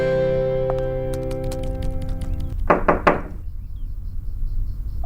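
A few firm knocks on a door, a quick cluster of hollow raps that follows a sustained musical drone, close and fairly loud, then room quiet.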